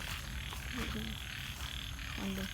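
Frogs croak in a rainy morning garden near an old snail pond, several short low calls sounding out against steady rain and outdoor ambience.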